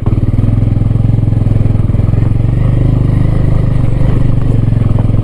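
A motorcycle climbs a rough off-road trail to a Shiva temple at Pumdikot. Its engine throbs loud and close in a steady, low, pulsing drone that holds throughout with only slight changes in revs.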